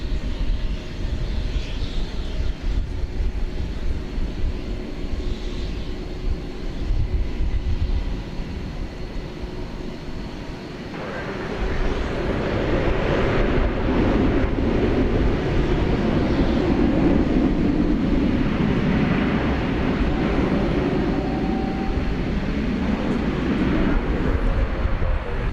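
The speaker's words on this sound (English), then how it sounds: "This is a 7879 Dreamliner headed to Istanbul" A Boeing 787-9 Dreamliner jet bound for Istanbul at DFW Airport gives a steady, broad engine roar that starts as a low rumble and swells louder about halfway through, heard outdoors from a distance.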